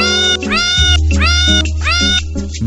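A cat meows repeatedly in a Meow Mix cat food commercial, several drawn-out sung-sounding meows in a steady rhythm over a bright musical backing, loud and close throughout.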